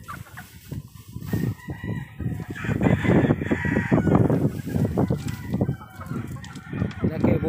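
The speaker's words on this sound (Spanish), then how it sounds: "Esta es otra línea que se está poniendo también, el gallo de Daniel Adame." A gamecock rooster of a fighting line crows and clucks repeatedly at close range, with some voices and farmyard noise around it.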